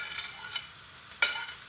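Ginger, garlic and bay leaves sizzling in a pan for a spicy Trinidadian mussels dish, a faint soft sizzle with a couple of brief stirring scrapes, with no talking.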